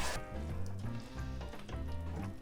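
Tomato puree and water simmering in a pan on a lowered stovetop heat, with a steady soft sizzle and low bubbling under occasional stirring scrapes, close and continuous.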